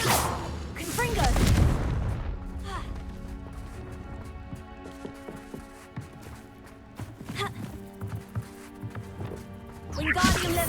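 Confringo fire blast spell cast in the Hogwarts Legacy video game: a booming whoosh bursts out near the start and another near the end, over a steady bed of game music and ambience.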